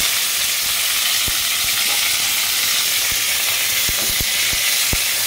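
Whole spices crackle and sizzle in hot oil in a wok on an induction cooktop, a steady close frying hiss with scattered sharp pops throughout.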